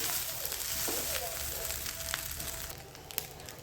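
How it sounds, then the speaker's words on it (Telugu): Basmati egg fried rice tossed over a high flame makes a steady, close sizzle with occasional scraping clinks and brief pops, fairly quiet and without talk. "మంచిగా టాస్ చేసుకోవాలి హై ఫ్లేమ్లోనే పెట్టుకుని"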